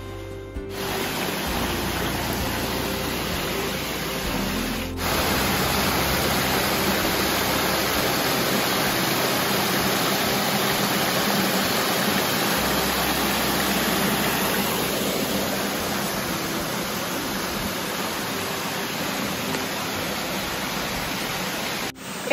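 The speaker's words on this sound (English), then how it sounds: "If only the waterfalls would shut up so I can concentrate." Waterfalls at the Mayan ruins of Palenque in Chiapas, Mexico, roar with a steady, loud broadband rush that fills the whole stretch without pause.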